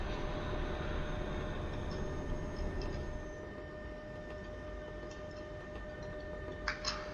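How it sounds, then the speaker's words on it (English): A tram rumbles past nearby with a steady low drone and faint rail ticks, easing off partway through, followed by a few light clicks. "I wonder what that noise was. It's a tram."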